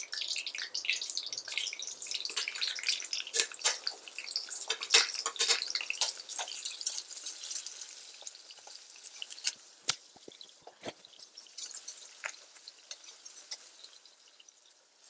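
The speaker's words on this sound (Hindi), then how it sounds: "अब इसी में हम ये प्याज भी तल लेंगे।" Onions frying in hot oil for restaurant-style chilli paneer, a bright crackling sizzle with scattered pops and spatters, loudest early then thinning out, with no voices.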